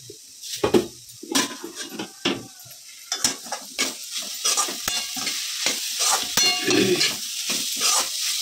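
Mashed potato filling for cabbage paratha is stirred in a hot pan, with close, loud spoon scrapes and knocks in irregular bursts over a soft sizzle.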